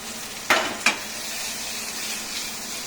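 Prawns sizzling in a hot pan with chopped parsley and cherry tomatoes, a constant bright hiss broken by two quick scraping tosses near the start, close and fairly loud, with no talking.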